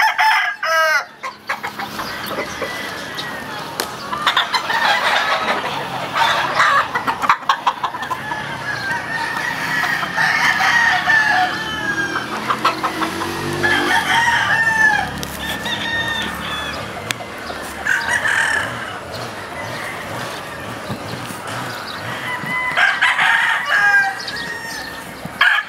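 A flock of Kelso White Hackle gamefowl, mostly roosters with one pullet, crow repeatedly and cluck nearby, overlapping calls rising loud against background farm noise.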